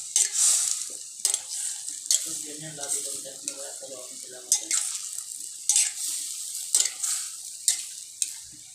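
Bikolano ginataang pakbet, vegetables cooked in coconut milk, is stirred in a pan, with repeated scraping strokes of a utensil over a soft, steady sizzle.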